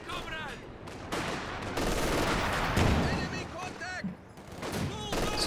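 MG42 machine gun fire in the video game Company of Heroes 2, sustained dense rattling bursts with other battle noise and brief whistling sounds, loud and continuous, with voices faintly mixed in.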